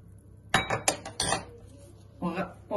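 Flour, salt, yeast, sugar and butter are mixed in a bowl, with a few quick clinking and scraping strokes close by, then a short rattling burst after a pause.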